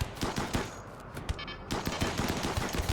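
Automated turrets firing in the colony game RimWorld, rapid machine-gun bursts crackling in quick succession with a brief lull mid-way before the firing resumes.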